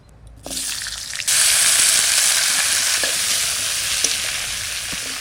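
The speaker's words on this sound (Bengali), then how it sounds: "ওই তেলের মধ্যে আলু কটা দিয়ে দেবো।" Potatoes dropped into hot oil in a home kitchen give a loud, continuous sizzle that starts abruptly and holds steady, with a few small clinks and no talking.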